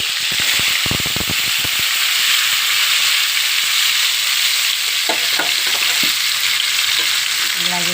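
Masala-stuffed brinjals hit hot oil and ghee in a pan, giving a loud, continuous sizzle and hiss with a few clanks and stirring scrapes at the start and toward the end, and no talking.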